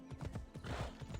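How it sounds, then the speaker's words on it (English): A horse in Assassin's Creed Odyssey neighs and whinnies while its hooves clip-clop in a quick, steady rhythm, close and moderately loud, with no talking. "Call my horse."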